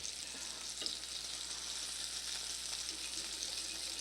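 Sausages frying in a pan give off a soft, steady sizzle and crackle throughout, even and unbroken, with no voices.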